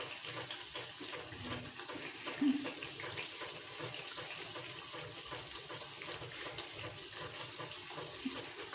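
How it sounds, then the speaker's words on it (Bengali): Chhana jalebi frying in oil on a low flame, a soft, steady bubbling hiss that runs unbroken and fairly quiet, with no voices. "জিলেপিগুলো আমার লাল লাল করে ভাজা হয়ে গেছে"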